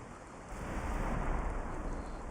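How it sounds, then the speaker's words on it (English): Steady rain in the video game Valheim, a soft continuous hiss of falling water with a low rumble beneath, heard alone at moderate level and swelling slightly after the first half second. "So that stops the rain from getting on it."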